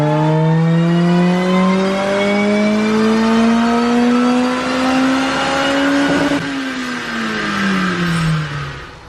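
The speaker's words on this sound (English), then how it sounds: "We'll go ahead and do a run in 4th gear so you can watch these." A supercharged car engine revs hard on a dyno in 4th gear, rising in a loud, continuous climb before lifting off and winding down, with supercharger whine over the exhaust roar.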